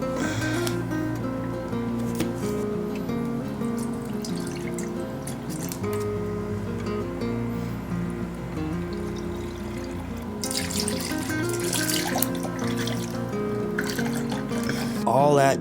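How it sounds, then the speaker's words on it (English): Liquid wax sloshing and swirling inside a mold box for a bear-skull lost-wax casting, a steady wet rolling and dripping sound close by, with a brief louder scrape near the end. "I'm gonna put enough in there, slosh it around,"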